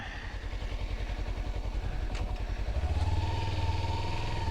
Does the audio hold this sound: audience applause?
no